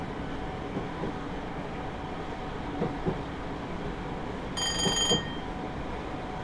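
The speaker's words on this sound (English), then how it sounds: "Now we just let the train roll" A Class 313 electric multiple unit in Train Simulator coasts toward Stratford with a steady rolling rumble and faint track clicks, and a brief bright chime-like tone cuts in near the end.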